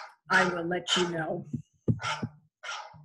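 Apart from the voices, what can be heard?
phone ringtone sounding like barking dog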